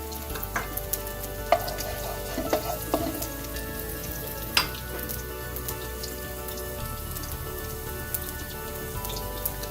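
Garlic and chili flakes fry in a pan for a bok choy stir fry, giving a steady close sizzle with scattered pops and crackles and no talking.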